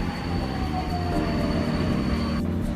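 An old Soviet-built car on Budapest's Blue Metro Line 3 rumbles steadily through the tunnel. A thin, high-pitched whine sounds over the loud running noise until it cuts off near the end.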